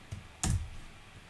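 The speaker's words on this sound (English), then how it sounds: "Depress your Enter key on your keyboard." A single soft Enter key press on a computer keyboard clicks once, quiet and close, with a faint earlier tap before it.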